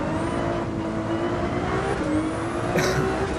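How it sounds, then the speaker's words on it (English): A Gran Turismo 7 race car revving hard out in third gear on the Nordschleife toward a heavy braking zone, a loud sustained engine whine with rising pitch sweeps and a brief tire scrub near the end. "revving out gear 3, as we head down towards the harsh braking zones of the tightest part"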